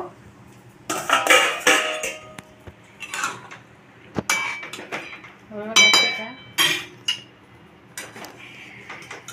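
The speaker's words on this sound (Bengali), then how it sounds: "ঢাকনাটা এবার খুলে দেখব।" Metal pot lid lifted off a pan cooking prawns with water lily stems, several clanks and clinks of metal cookware in irregular bursts, close by, with a voice speaking between the clatter.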